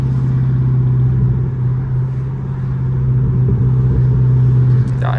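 650hp SRT 392 with a custom exhaust, heard from inside while driving: a loud, steady, deep engine drone and rumble that stays even throughout, with a brief rise near the end.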